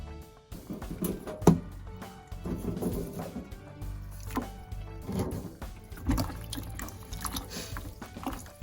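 Small fresh Japanese garlic bulbs are rinsed in water, with steady splashing, dripping and sloshing and occasional knocks close by.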